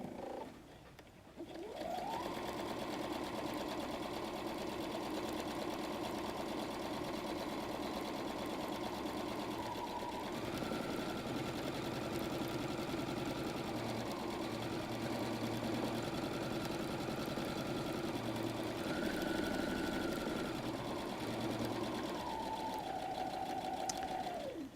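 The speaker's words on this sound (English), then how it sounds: "all I want to do right now is sew and stay right on that line." A sewing machine with an open toe foot runs a straight stitch along a line on a messenger bag, a steady close mechanical whir that holds for over twenty seconds, shifting pitch briefly as the speed changes.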